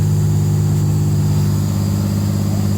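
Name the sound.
big rig truck engine running as it starts moving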